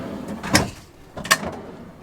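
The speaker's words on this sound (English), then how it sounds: "And when you open it, it's a full drawer." Full-width soft-close drawer in the furniture of a Coachmen Beyond 22CEB RV sliding open, giving two soft rolling bumps close by in a quiet interior.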